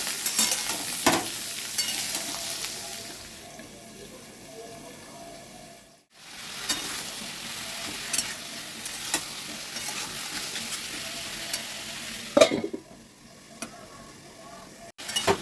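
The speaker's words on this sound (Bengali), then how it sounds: "তরমুজের খোসা আলুটাকে আরও ভালো করে একটু নাড়িয়ে নেবো তেলের মধ্যে" Diced potatoes and watermelon rind stirred and frying in hot oil in a pan: a steady sizzle with repeated spatula scrapes and clicks, briefly quieting midway before the sizzling and stirring resume up close.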